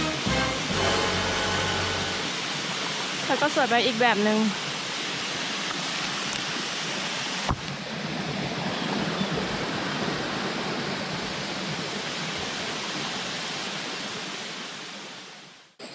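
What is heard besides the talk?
small waterfall in New Zealand forest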